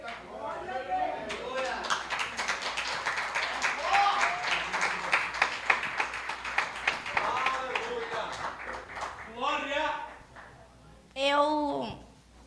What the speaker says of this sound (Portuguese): Pode se sentar aplaudindo o nome do Senhor.